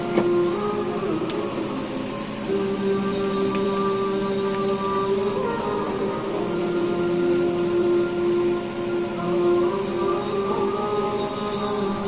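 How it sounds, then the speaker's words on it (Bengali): Dried chilli pieces drop into hot oil and sizzle with a dense, steady crackle and spatter, close by and continuous, with no talking. "বাকি শুকনা মরিচগুলো টুকরো টুকরো করে তেলে ছেড়ে দিলাম।"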